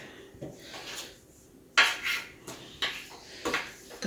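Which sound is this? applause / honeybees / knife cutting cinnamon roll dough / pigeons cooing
knife cutting cinnamon roll dough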